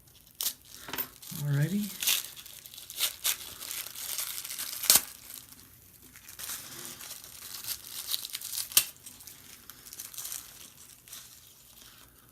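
Taped-up cardboard packaging for a skateboard unboxing is torn and crinkled open in several short rips and rustles, close by, with someone speaking briefly.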